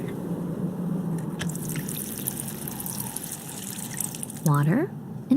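Water pouring in the Shadowverse story mode: a short trickle with a rising fill tone, heard over steady background music and ambience, followed by a brief second splash at the end.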